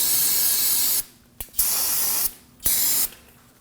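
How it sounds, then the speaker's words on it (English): Brake cleaner hisses from an aerosol can onto the front brake caliper area of a 1993-2001 Subaru Impreza in long, loud, close bursts with a short puff between them and brief silent gaps. "We'll spray the area down with some brake cleaner."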